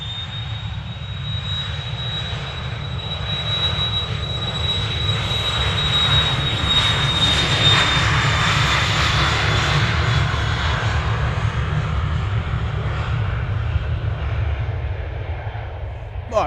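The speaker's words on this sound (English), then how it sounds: "Starting its takeoff roll." An Ethiopian airliner's jet engines roar through its takeoff roll at Manchester Airport, a steady loud rumble that swells toward the middle and holds as the plane accelerates, with a faint high whine above.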